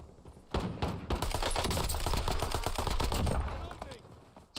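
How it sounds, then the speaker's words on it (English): Rapid automatic gunfire from the shooter game Warzone bursts in loudly after a brief pause and rattles on in dense, sustained volleys, close and heavy. "He was shooting at somebody else behind us."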